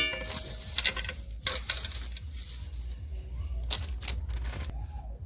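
A spoon stirs sago payesh in a pot with cashews, raisins and pistachios, giving repeated soft scraping swishes and faint bubbling over a continuous low simmer, with a few sharper clinks of utensil against the pan.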